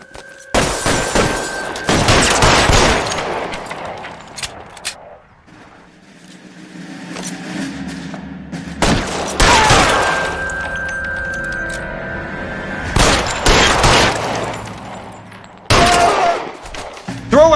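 Gunfire erupts in an L.A. Noire shootout, loud bursts of shots and shattering impacts in several clusters separated by quieter stretches with a car engine rumbling, with occasional voices in between.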